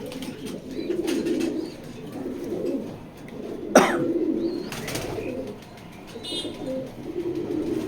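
Racer pigeons coo softly and steadily in a loft, including a blue pied hen, with a brief sharp knock partway through and faint bird calls above.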